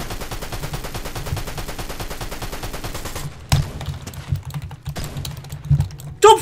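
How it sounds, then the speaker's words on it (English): Rapid gunfire in a video game, a dense fast stream of shots for about three seconds followed by a few scattered cracks, close and loud. "Stop fucking sniping at me"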